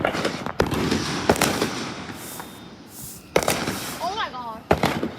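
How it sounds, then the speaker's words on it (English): Fireworks keep going off after a show, a series of sharp loud bangs and crackles at irregular intervals, some near and some more distant, with a whistling rocket rising between them and a person's voice in the background. "We have fireworks still going."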